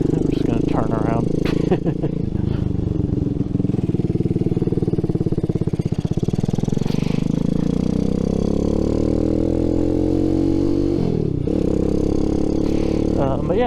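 A Boom Vader 125, a Honda Grom-style clone motorcycle, runs underneath continuous talk while being ridden and turned around. Its steady mid-pitched engine drones with rising and falling revs as it turns.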